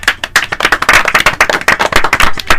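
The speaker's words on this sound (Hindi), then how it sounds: "सही जवाब भेजने वाले साथियों के लिए जोरदार तालियां।" Enthusiastic clapping from a group, with dense rapid overlapping claps at a steady loud level for a few seconds and no talking.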